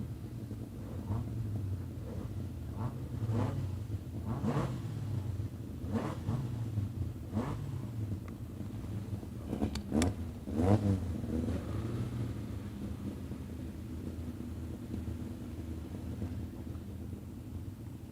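Beach buggies racing around an oval dirt track on a Sunday afternoon, engines droning and revving as cars pass at a distance, with a steady rumble, wind buffeting the microphone, and a few louder passes midway.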